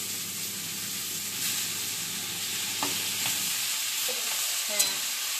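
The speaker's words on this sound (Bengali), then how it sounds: "বেগুন ভাজার মধ্যে আমি কুচানো শাকগুলো দিয়ে দিচ্ছি" Chopped greens stirred into eggplant frying in a pan with a little sugar and water: a steady soft sizzle and hiss, with a few light scrapes and taps of the spatula, close and moderately quiet.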